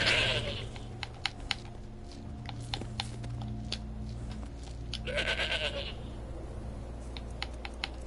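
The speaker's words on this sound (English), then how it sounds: "Maybe the goat, Hilda" In the video game Skyrim on PlayStation 4, a goat bleats twice, at the start and again midway, while sharp keyboard-like clicks tap steadily throughout.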